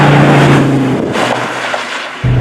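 A 2016 Dodge Viper ACR engine drones steadily up close while the car is driven through corners, briefly dipping in intensity before swelling back again.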